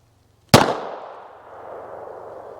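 A single sharp crack from a .22 LR rifle firing a Remington Thunderbolt round, loud and close, followed by a long fading outdoor echo.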